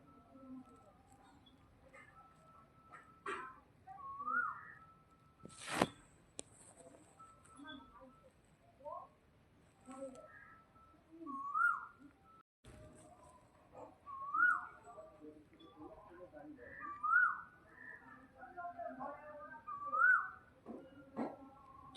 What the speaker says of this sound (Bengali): প্রথম কোকিলের ডাক তোমাদের সামনে আজকে শেয়ার করলাম